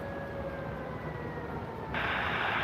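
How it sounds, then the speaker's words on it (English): Siren at a river lock giving a steady, sustained tone while the lock operates, then shifting pitch near the end, heard at a moderate distance over a constant background drone. "That siren you hear is the locks operating, giving notification."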